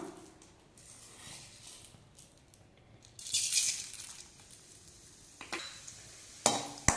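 Urad dal frying in hot sesame oil over a low flame, a soft steady sizzle with sharper crackling bursts near the middle and at the end.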